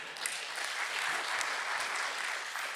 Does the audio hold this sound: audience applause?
yes